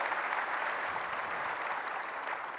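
Conference audience applauding panel speakers at an opening keynote and general session, a soft steady wash of many hands clapping that sounds fairly distant and continues without a break.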